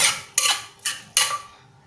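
Three separate clinks of dishes and cutlery sound while a plate of Isan banana blossom salad is set out, each bright and close with a short ringing tail and brief pauses between them.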